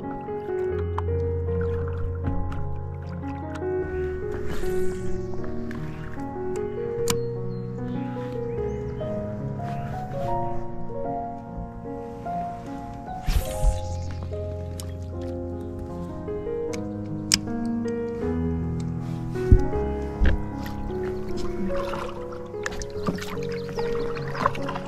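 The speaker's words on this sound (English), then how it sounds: "So I'm just going to paddle along the shore, take a few casts, and just enjoy it." Paddling a boat along a lake shore during spring fishing on Vancouver Island, soft rhythmic dips and gentle water splashes recurring steadily beside the boat, with a calm musical background.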